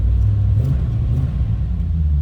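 Idling 1986 Chevrolet Corvette convertible with a 5.7-liter 350 tuned port injection V8, a steady deep low rumble close by, continuous and unchanging with no talk over it.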